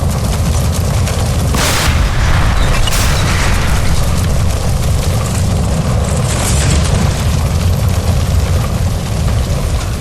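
Loud, dense rumbling roar of a gas line explosion in the video game L.A. Noire, with sharp bursts early on and a sustained blast filling the whole stretch, no speech.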